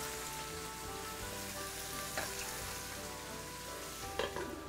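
Cubes of beef stew meat browning in a hot pan, a steady close crackling sizzle throughout with occasional louder pops and spatters as the meat is stirred.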